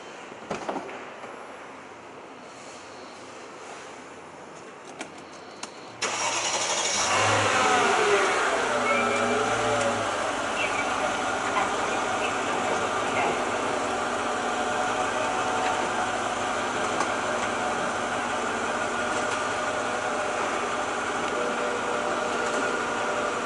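A Mercedes-Benz SL 500 two-seat convertible starts with a quiet interior hum, then its motorised roof begins retracting with a continuous whirring drone that holds steady to the end.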